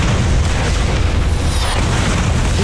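Rocket explosions in the Borderlands video game form a loud, continuous roar of booming blasts with no pauses and no talk.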